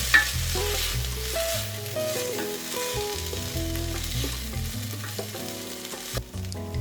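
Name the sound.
stirring boiled cannellini beans in a pot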